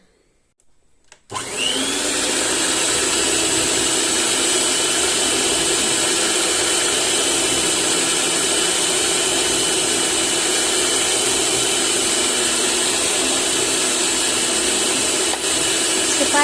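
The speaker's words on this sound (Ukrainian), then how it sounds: "щоб міксер встигав перемішати" An electric mixer mixing cake batter for a ring-shaped cake starts up after a second and runs loud and steady alone, a constant motor whir with no pauses.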